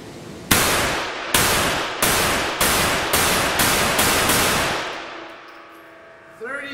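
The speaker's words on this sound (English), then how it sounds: "I'm going to go ahead and fire all 8 rounds at the target." Eight sharp pistol shots from a FEG AP MBP firing .32 ACP rounds at a target, fired in a fast, even string about half a second apart, loud and close, with no talk over them.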